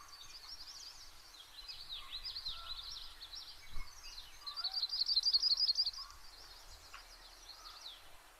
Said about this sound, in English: So this is the yellow rumped warbler.